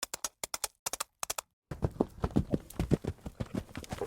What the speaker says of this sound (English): the obvious thing to look up would be a horse running.